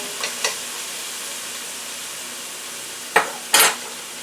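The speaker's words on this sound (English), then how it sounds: "We want to get these onions nice and crispy." Onions crisping in a pan for a cranberry garlic cheesy pasta give a low, steady sizzle, broken by two pairs of brief stirring scrapes or clinks near the start and near the end.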